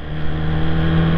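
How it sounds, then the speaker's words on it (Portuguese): A steady, loud motorcycle engine drone with a low hum, held at a constant pitch throughout, close by and with no voices. "primeira volta de moto"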